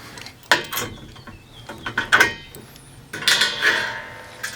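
Metal bolts, washers and nylock nuts clink and rattle against steel brackets while a 2019 ALTA rack is assembled, a few close, sharp metallic knocks and scrapes with no speech.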